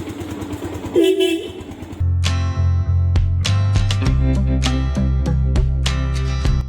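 A Yamaha R15 motorcycle engine starts and idles with a steady low rumble, preceded by brief handling noises and a short voice.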